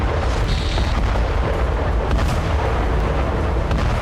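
Explosion at a Ukrainian weapons and ammunition depot in Ternopil or Khmelnytskyi, a loud continuous deep rumbling boom with cracking bursts throughout, no talking.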